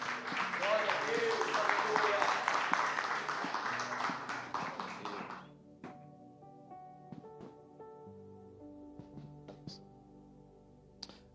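A church congregation claps in praise of the Lord, a thick, lively round of hand-clapping that stops abruptly about halfway through, leaving quiet room tone with a few scattered sounds.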